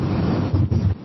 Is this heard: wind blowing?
yes